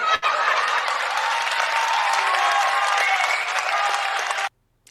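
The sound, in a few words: audience applause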